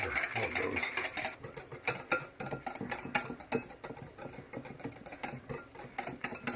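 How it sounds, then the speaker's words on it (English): A whisk beats batter for a pancake-style recipe, a quick steady run of rapid clicking taps against the bowl, close and fairly even, with no one talking. "it says beat this with a whisk for about 2 minutes."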